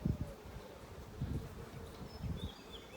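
Honeybees buzz at their hive in a low, continuous drone that swells and fades, close by, with no voices.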